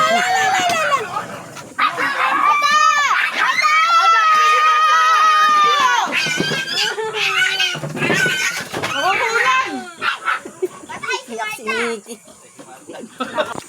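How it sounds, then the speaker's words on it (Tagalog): Two dogs fight during a mealtime, snarling and yelping in loud, frantic bursts close by, as excited human voices and cries mix in throughout. "Kasarapan ng kain, nag-away yung dalawang aso."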